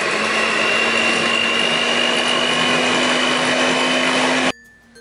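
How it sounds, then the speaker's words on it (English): A hand mixer runs steadily on low speed through cake batter for a vanilla hot milk sponge cake, a constant motor whir with a faint tonal hum that cuts off abruptly near the end, leaving near silence. "we are going to mix or use a hand mixer on a very low speed"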